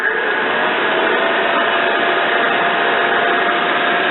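A Suburban SF35 RV furnace blower motor runs close by, a loud, steady airy whoosh with an even motor drone and no squeal, alone without talk.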